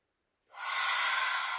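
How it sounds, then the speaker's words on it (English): A single long, steady exhale during a hatha yoga breathing practice, starting after a brief silence and sustaining as a soft, even breathy rush close to the listener, with no talking. "take a full cleansing exhale breath"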